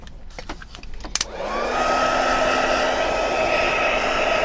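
A hair dryer drying wet Brusho paint on a craft project. A few light clicks and handling taps come first, then the dryer starts up and holds a loud, steady whirring roar close by, with no talking.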